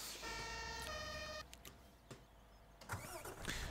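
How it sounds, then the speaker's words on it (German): A police car siren or horn sounds in Farming Simulator 17 (Landwirtschafts-Simulator 17) as one loud, steady electronic tone lasting over a second, with a step in pitch partway through, followed by quieter game noises. "Polizeiauto, das so immer noch hupt"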